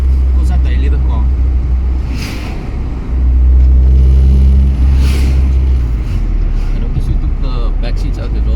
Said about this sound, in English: the car becomes quite loud, like on high RPM